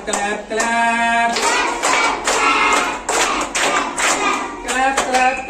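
Hands clapping in a rhythmic clapping game, sharp claps in quick groups of three, close and loud, with singing or chanting voices running over them throughout.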